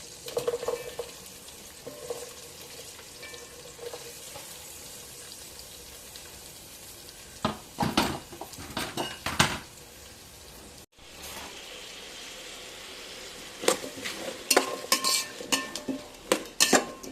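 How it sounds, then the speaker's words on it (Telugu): Chopped vegetables frying in a pan for vegetable pulao, with bursts of metal spoon scraping and clinking against the pan over a low sizzle, near and without talk. "చక్కగా ఇవన్నీ ఒకసారి తిప్పేసేసుకోండి."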